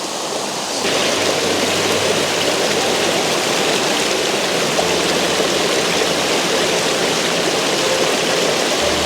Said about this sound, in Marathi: तिथं मस्त एकदम ना भरपूर पाणी वाहत होतं